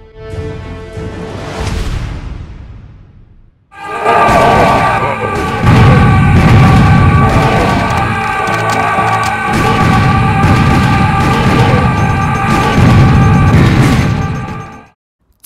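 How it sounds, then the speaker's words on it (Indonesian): A kamikaze enemy in a video game blows himself up with a loud explosion, a sustained roaring blast with crackling debris that follows a brief quieter lead-in and then cuts off abruptly. "Ia digunakan untuk serangan bunuh diri dengan lari ke arah pemain dan meledakkan diri."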